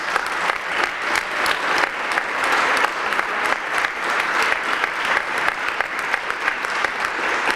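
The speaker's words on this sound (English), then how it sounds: "So can we give them a round of applause?" A Cleveland City Council chamber audience gives a sustained round of applause, dense, steady clapping from many hands filling the room at close range, with no talk over it.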